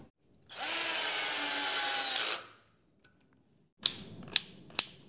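A 12V cordless drill-driver whirs steadily for about two seconds, then stops. After a pause come three sharp, separate clicks of the gear clutch.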